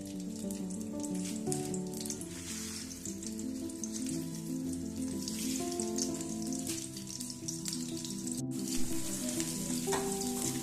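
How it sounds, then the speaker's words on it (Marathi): Chillies, garlic and cumin tempering in hot oil in a kadhai, a steady close sizzle and crackle running continuously with stirring sounds, no voices. "नंतर मिरच्या, लसूण आणि जिऱ्याची फोडणी द्यायची आहे."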